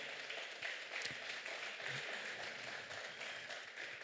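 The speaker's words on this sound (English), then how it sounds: "please do give them a round of applause as they make their way" Audience applause at a conference session on African digital infrastructure as panelists walk on, a fairly faint, even patter of clapping sustained throughout without talk.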